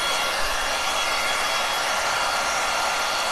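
A heat gun drying chalk paint on the background of a snowman painting gives off a steady, loud, even blowing roar that holds unchanged throughout, with no voices.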